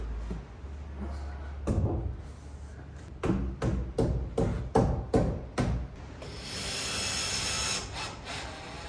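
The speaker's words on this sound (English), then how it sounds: "Drill ready with the screw in it. There's screwing them out." A power drill backs door hinge screws out of a newly fitted wooden door and frame, with a series of short, evenly spaced whirring bursts close by, then a longer higher-pitched spin at the end.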